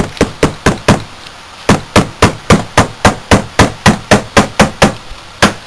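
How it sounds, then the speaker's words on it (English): A hammer taps spring pins into the center case of a Tuff Torq K66 hydrostatic transaxle, about twenty sharp metallic knocks in an even rhythm with one brief pause, loud and close, no speech. "It's simply a spring pin, and I'm going to tap those in."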